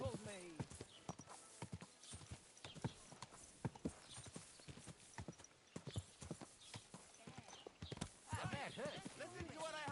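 Rapid clip-clop of horse hooves in the video game Kingdom Come: Deliverance II, with a whinny near the end, sharp rhythmic strikes mixed with voices talking throughout.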